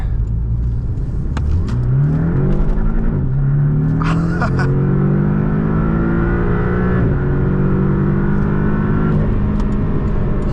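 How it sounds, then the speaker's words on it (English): A 2018 Porsche 718 Boxster roadster's engine pulls hard under acceleration on a damp road, rising in pitch through the revs with a brief shift dip, loud and steady from inside the car. "this Porsche can move. It's quick, very quick"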